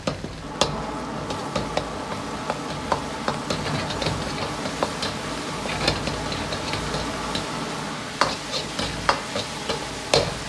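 Mapo tofu sauce with fermented black beans being stir-fried in a wok, a steady sizzle under repeated sharp clicks and scrapes of the spatula, close and busy, no voices.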